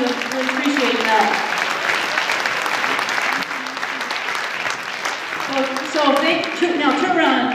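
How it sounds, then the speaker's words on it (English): Sustained crowd applause fills a women's basketball arena at UAF, dense and steady throughout, with voices and cheering mixed in and rising again toward the end. "So big round of applause for them, we really appreciate that."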